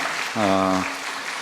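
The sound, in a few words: church congregation applauding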